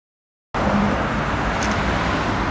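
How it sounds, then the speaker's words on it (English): Morning street traffic in Kyoto, with a steady wash of passing cars and roadway noise that begins abruptly after a short silence and stays loud and continuous, with no talking. "Oh, busy morning here."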